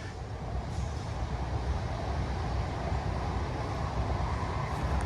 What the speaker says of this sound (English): Yep, there's a train coming through.